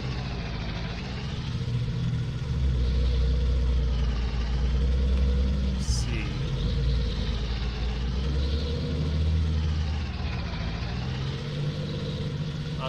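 A vehicle engine in Farming Simulator rumbles steadily while driving across a field, a loud low drone that rises and falls slightly with a brief high click midway.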